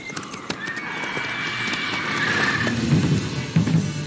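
In The Witcher 3, the horse Roach gallops with rhythmic hoofbeats under rising game music, and a whinny rings out near the start.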